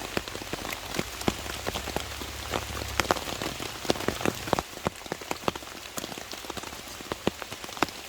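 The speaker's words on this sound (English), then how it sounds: "So the rain actually started just a wee bit early" Steady rain patters on a hard surface around a half-shelter camp, with dense irregular drops and louder individual splats close by, continuous and without talk.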